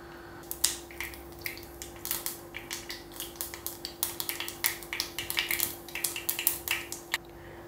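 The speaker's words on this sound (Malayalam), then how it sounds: "അങ്ങനെ കടുക് പൊട്ടിയിട്ടുണ്ട്" Mustard seeds burst and splutter in hot coconut oil in a pan, a flurry of sharp irregular pops and crackles that thicken toward the middle before tapering off, close and fairly loud over a faint steady hum.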